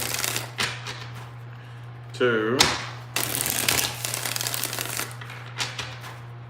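Tarot cards shuffled in several separate bursts of papery riffling and slapping, close and loud, with a voice counting between the shuffles.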